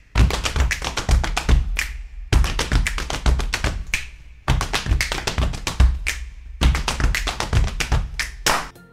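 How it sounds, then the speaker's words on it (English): Four quick bursts of sharp, resonant hits, each a rapid flurry of strikes ending with a short pause, loud and close. "It sounds like a drum!"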